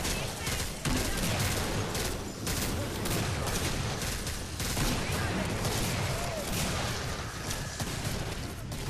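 Dense, continuous gunfire from the video game Killing Floor crackles steadily throughout, with overlapping shots and rumbling booms forming a thick wall of battle noise.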